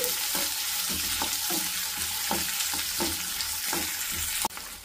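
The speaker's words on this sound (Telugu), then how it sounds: "పచ్చిమిర్చి కూడా వేసేద్దాం. వీటిని ఇప్పుడు మనం కొంచెం దోరగా వేసుకోవాలి." Green chillies and onion frying in a pan of oil for a Telugu-style potato fry, giving a steady close sizzle throughout with repeated soft clicks of a spatula turning the pieces.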